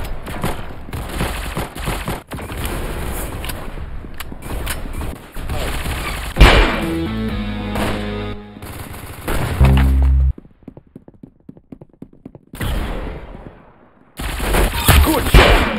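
Gunfire in the Roblox shooter Arsenal, bursts of rapid shots and single cracks interrupted by pauses, loud and close, with a stretch of music-like tones midway.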